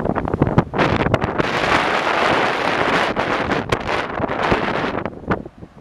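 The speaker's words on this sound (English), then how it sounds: "The wind is crazy right now." Strong, gusty wind buffets the microphone outdoors by an old bridge, a loud, roaring rumble that swells and dips in uneven gusts, with no talking.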